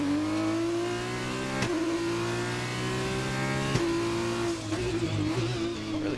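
A Formula 2 race car on a lap of the Singapore street circuit in a racing video game, its engine droning steadily at high revs with brief gear-shift dips and a stutter near the end, with no voices.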